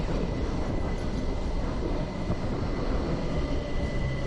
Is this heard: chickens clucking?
no